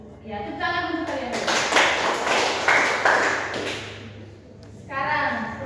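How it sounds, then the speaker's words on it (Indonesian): Classroom students clapping hands together in a burst lasting about three seconds, with a teacher talking just before and after. "Ya, tepuk tangan untuk kalian."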